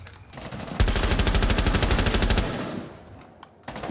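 Sustained rapid automatic gunfire in a video game, a loud, evenly spaced burst of about two seconds that fades out, followed after a pause by another sharp shot.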